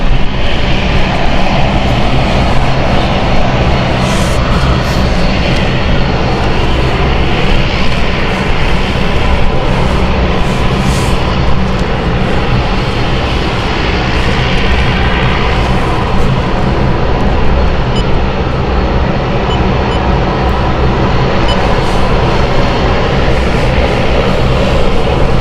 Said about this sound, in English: we've got the Amsterdam flight, which has been given clearance as well, so that is going to be landing